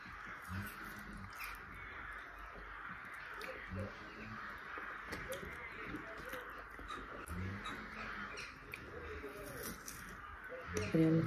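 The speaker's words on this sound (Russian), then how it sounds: "Опять вороны." Crows caw repeatedly in the open near a river walk, a series of raspy calls at moderate distance over a steady background hum, with faint voices speaking under the calls.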